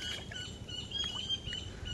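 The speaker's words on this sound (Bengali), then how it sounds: "পাখি ডাকছে, দেখেছো?" Birds chirp and call in a forest beside a river where crab traps are being set, with short high tweets repeating through a steady bed of rustling ambient noise, moderately distant.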